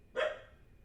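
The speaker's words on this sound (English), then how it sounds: "My dog's barking." A single short bark from a dog rings out once, fairly faint and alone against a quiet background.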